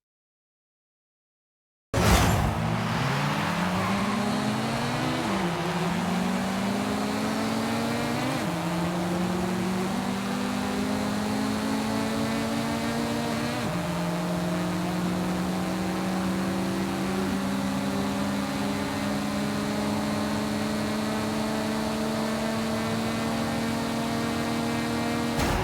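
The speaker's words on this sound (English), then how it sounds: "A drag race." Several JDM cars, a Toyota Supra among them, race side by side in a drag race, engines roaring loud and steady with rising pitch sweeps as they accelerate and shift gears repeatedly, with no talk.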